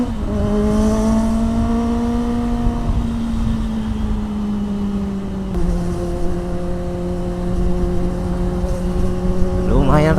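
A car accelerating on a road, engine tone rising through gears with audible revving climbs and a shift midway, loud and close from inside, with people talking over it.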